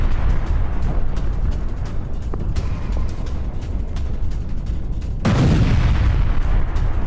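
An Iranian missile strike on a gas plant in Haifa brings a continuous heavy, noisy rumble and then one sudden, deep explosion boom that swells loudly near the end.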